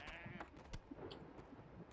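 A goat bleats in World of Warcraft Classic, a short nasal cry against a busy game backdrop of clicks and effects, fairly close and moderately loud.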